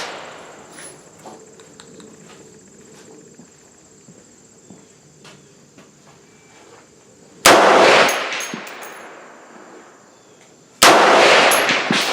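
Two loud rifle shots from a Bear Creek Arsenal 350 Legend ring out a few seconds apart at a 200-yard range, each with a trailing echo, over quiet outdoor background hiss.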